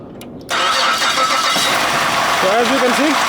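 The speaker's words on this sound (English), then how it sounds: "So as you can see, the vehicle engine had been started." Chevy Lumina with a GM 3800 engine cranking and catching: a brief starter whir, then the engine fires and settles into a steady loud idle, with someone talking over the running engine near the end.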